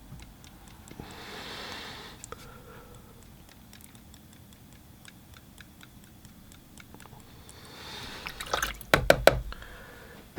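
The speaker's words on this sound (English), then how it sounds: "And I'll do some splashing just to," Ink wash paint is splashed onto paper for a coastal street scene, small ticking droplet spatters scattered across the quiet, rising into a flurry of sharper taps near the end.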